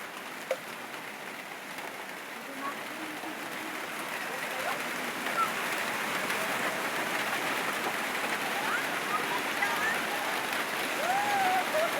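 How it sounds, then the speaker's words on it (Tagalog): Steady heavy rain hisses and patters continuously throughout, a dense, even wash of sound with no clear pauses. "Ang lakas ng ulan."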